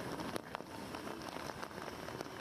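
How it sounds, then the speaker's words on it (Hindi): Heavy monsoon rain pours steadily in Mumbai as a dense, even hiss of drops on surfaces, with scattered small spatters and no voices. "बारिश का सिलसिला लगातार जारी है"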